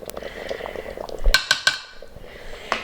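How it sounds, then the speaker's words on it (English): A spoon stirs wine into meatball sauce inside an Instant Pot, producing a few close metallic clinks and scrapes against the pot in a short cluster, with quiet kitchen background around them. "Okay, so I probably put about maybe 1/4 of a cup of wine and stir that up a little bit"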